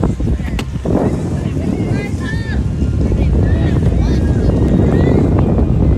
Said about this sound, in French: Ah, il y a du vent.